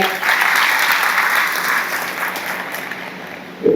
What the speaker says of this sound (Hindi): तो बजाओ एक बार बच्चों के लिए ताली।